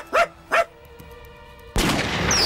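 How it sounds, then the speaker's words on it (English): A cartoon dog from the animated series Lavender Castle gives two short, sharp barks, followed after a pause by a sudden loud, noisy burst that continues to the end. "What's that, Sproggle? You've got a dog?"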